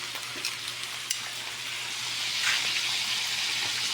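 Fried rice stir-fried in a pan makes a steady, close sizzle with a few scraping stirs, and the frying noise grows a little louder toward the end.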